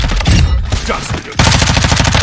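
Rapid automatic gunfire from a shooter video game, loud and close, with a brief lull in the middle before a dense, steady stream of shots resumes and carries through to the end.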